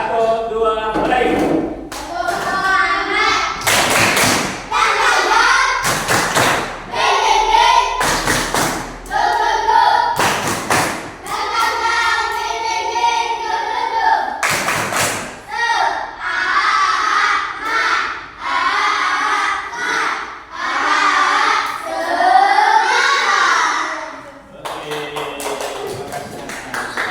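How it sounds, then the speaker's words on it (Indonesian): A school class does a rhythmic spirit clap, tepuk semangat, with sharp loud claps in bursts between group chanting and shouting, close and energetic. "Tepuk semangat dulu yuk."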